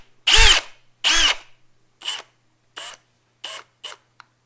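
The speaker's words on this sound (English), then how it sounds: "I believe you need to be pushing on it with the drill bit to get the hammer part to use." A Milwaukee M18 Fuel 1/2-inch hammer drill driver whirs in loud bursts up close: two longer runs, then several shorter trigger pulls that grow quieter and briefer, with silence between them.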